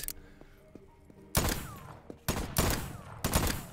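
Gunfire in the sci-fi game Voidtrain: three or four loud, sharp blasts in quick succession after a quiet opening, each cracking close and fading with a short tail.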